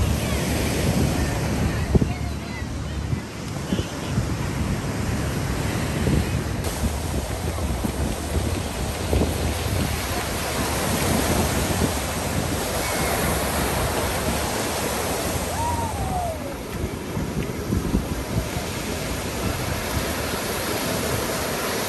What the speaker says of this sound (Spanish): acabamos de llegar al Henderson State Park Beach